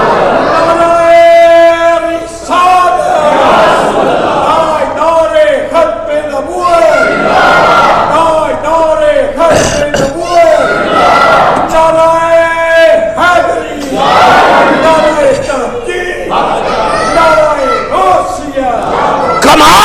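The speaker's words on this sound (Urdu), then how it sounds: "محبت سے نعرے کا جواب دیجئے جناب۔" Religious gathering crowd at a Ramadan welcome sermon shouting a slogan response in loud unison, with several rhythmic chanted bursts and a leader's voice over a large hall of voices.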